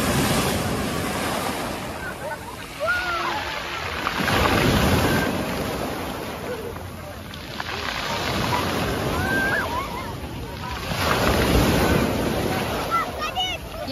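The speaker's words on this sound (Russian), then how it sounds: "Смотрите, какие волны." Stormy sea waves breaking on the shore at Lazarevskoye under heavy cloud, a loud rolling roar that swells and recedes in repeated surges, with strong wind buffeting the microphone.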